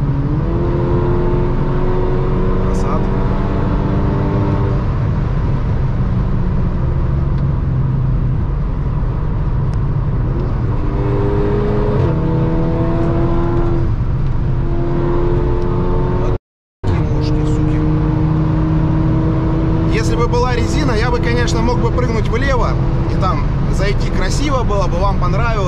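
A car cruises fast along a highway, giving a steady, loud engine and road drone with shifting engine tones throughout and a brief dropout partway. A voice may be present at times.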